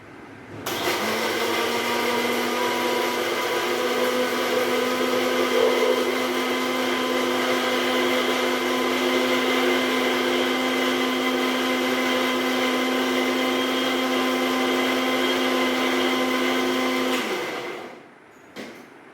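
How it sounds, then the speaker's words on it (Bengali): An electric mixer grinder whirs steadily for about seventeen seconds, blending ginger, green chili and cumin seeds into a fine paste, loud and close, with a high motor whine that runs down and stops near the end. "গোটা জিরে আমি ভালো করে মিহি পেস্ট করে নেব।"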